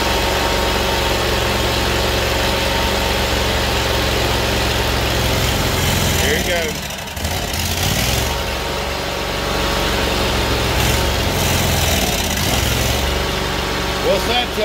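A Kohler Command Pro 25 engine on a Great Dane zero-turn mower with a fuel problem runs loud and close at a steady roar, briefly stumbling and dipping midway before recovering.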